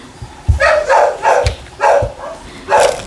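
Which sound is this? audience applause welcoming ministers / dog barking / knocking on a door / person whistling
dog barking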